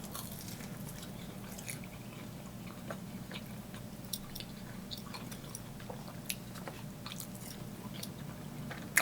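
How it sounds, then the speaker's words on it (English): Biting and chewing a cheese ball at a Greek restaurant, with soft, close, irregular crunchy chews and clicks repeating over several seconds against quiet room noise. "Let me get a cheese bite."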